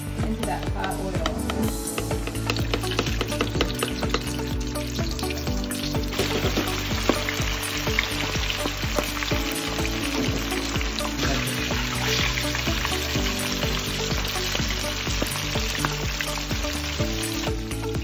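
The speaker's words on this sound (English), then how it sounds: "straight into that nice, oh my gosh, look at that sizzle. That is what you want into that hot oil." Flour-coated chicken pieces drop into hot oil and fry with a loud, steady, crackling sizzle that holds evenly throughout.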